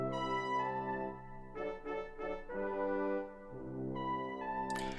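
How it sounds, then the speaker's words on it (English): Natural-sounding brass section in an 80s-style pop production, held harmonic chords with a brief rhythmic stab passage in the middle, fairly quiet and without voices. "the final element I added was a brass sound"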